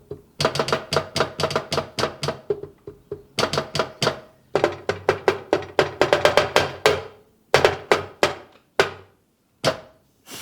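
Rapid metallic clicks and taps of flute keys played as percussion on a large flute, in quick irregular bursts with short pauses, close and crisp with no talking.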